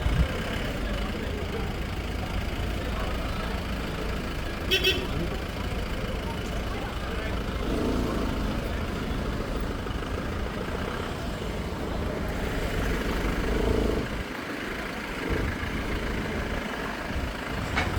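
A motorcycle engine idles and revs gently while the bike is turned around in a traffic jam near Ghum station, a steady mid-level drone with surrounding traffic rumble and a brief horn, under intermittent talk.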